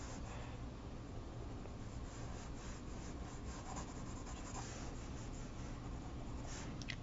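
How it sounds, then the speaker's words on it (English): Pencil strokes shade a cast drawing with continuous soft rubbing and scratching, close and quiet, with a steady rhythmic texture and no talk. "And you can have your pencil strokes go with the lay of the land."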